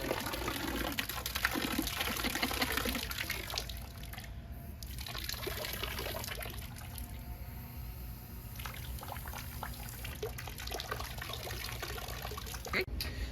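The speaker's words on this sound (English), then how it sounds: "Look how much water is going in the anchor." Water from a hose pours into a boat's anchor locker, a steady faint splashing and trickling that runs throughout, with small drips and gurgles near the microphone.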